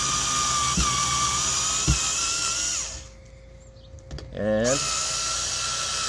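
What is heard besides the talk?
Black & Decker cordless screwdriver in reverse removing screws from wood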